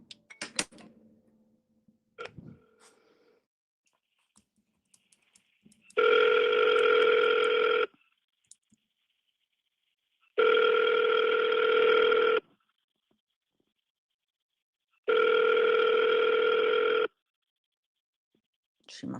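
A phone call being placed again: a few taps and clicks, then three identical long electronic ringback tones spaced evenly apart with silence between them, clear and close.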